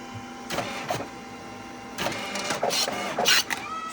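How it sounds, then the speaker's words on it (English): A photo booth printer turns out a 4x6 test print: two bursts of whirring, motorized feed noise, with a short pause between them and a brief higher mechanical whine near the end. "4x6 image, prints out in about 10 seconds."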